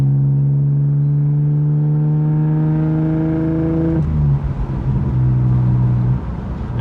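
Deep exhaust drone from a BMW E46 fitted with an oversized aftermarket exhaust, a steady low hum with rising harmonics that shifts abruptly into a rougher, fluctuating note, close and loud throughout.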